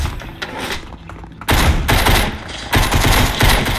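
Loud bursts of rapid automatic gunfire in the video game Fortnite, one shorter volley followed by two sustained fusillades that dominate the clip, with no talking.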